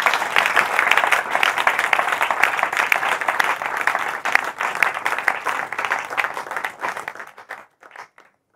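A church congregation applauds and claps together in a sustained, dense wave of hand claps filling the room, loud and continuous before fading out abruptly near the end.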